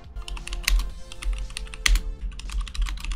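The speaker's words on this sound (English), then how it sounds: "Do you like my mechanical keyboard?" Rapid, clacky keystrokes on a mechanical keyboard, close and crisp, with occasional heavier thocks from larger keys; no voices.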